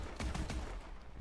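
Bulldog shotgun fired in Call of Duty: Advanced Warfare, a few quick muffled blasts in close succession followed by a fading low rumble, fairly faint overall.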